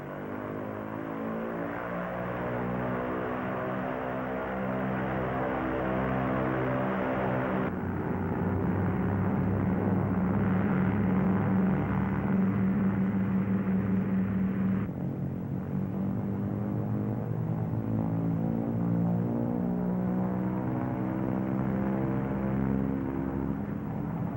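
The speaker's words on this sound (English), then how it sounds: "throttles advanced to get maximum allowable manifold pressure." The twin engines of a P-38 fighter run up on the ground with throttles advanced and toe brakes held, producing a loud, continuous propeller-engine drone. The pitch steps up partway through, and no voices are heard.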